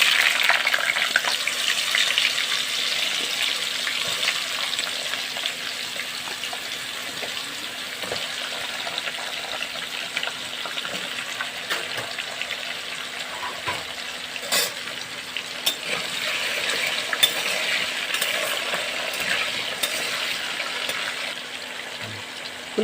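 Cut potatoes fry in a pan and are stirred now and then: a long, steady hiss of oil runs close throughout, broken by scattered scraping clicks of the spatula.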